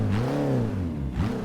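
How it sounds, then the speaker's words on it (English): A 1980s-era sports car engine in the Forza Motorsport 6 racing game, starting and revving up then easing off before a second rev, a steady synthetic drone with no talking. "Maybe start the engine."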